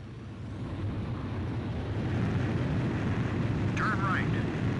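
Aircraft on landing approach in the video game Ace Combat 5, a steady loud jet engine roar that fills the whole stretch, with a brief faint electronic warble near the end.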